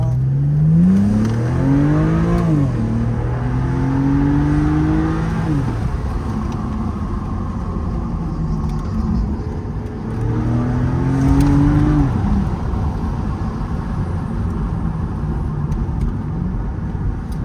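A BMW Z4 30i E89 roadster accelerating hard from standstill to 100 km/h; the inline-six engine revs climb steeply through the gears with audible shift dips, loud and close from inside the car, with no talking.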